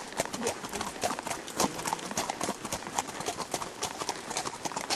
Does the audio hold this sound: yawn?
no